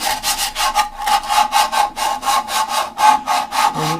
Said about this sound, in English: just deburr the edges, do a little polishing on the very bottom.